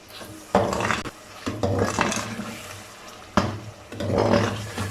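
Pieces of beef with masala are stirred and roasted in a pot, producing several distinct metallic clanks and scrapes of a spoon against the pan at an irregular pace, with a low cooking hiss underneath.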